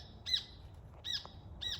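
Small birds chirp in three brief bright bursts, evenly spaced about every 0.8 seconds, fairly distant over a low background rumble.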